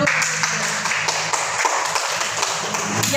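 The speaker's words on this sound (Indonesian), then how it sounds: "Tepuk tangan dulu." Students in a class session clap together in a steady, close patter of hand claps that continues evenly throughout, with no talking over it.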